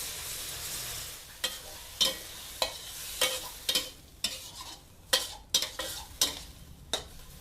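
Minced pork, loosened with a little water, stir-fries in a pan with a continuous sizzle, broken by a string of sharp spatula scrapes and clinks roughly every half second.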